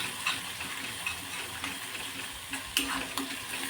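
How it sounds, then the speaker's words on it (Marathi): Gram flour (besan) stir-frying in a pan for a dhaba-style soybean chunk curry gives a steady, close crackling sizzle with scraping stirs throughout, and no one speaks. "हे सुद्धा कच्चेपणा दूर होईपर्यंत परतून घ्यायचं"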